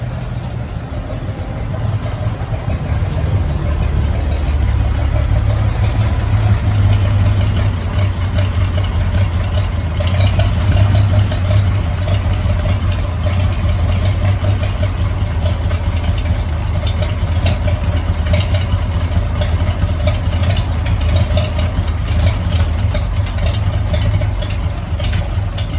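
A 1962 Farmall 560 tractor engine with a carburetor that seeps gas idles steadily and close by, a low rumbling drone that holds even for the whole stretch with no other sounds.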